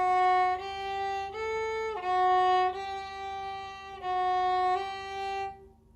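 A solo viola plays a short folk-tune passage from Shepherd's Hey, a string of bowed notes with clear changes in a lilting rhythm, moderately soft and unaccompanied, ending on a held note.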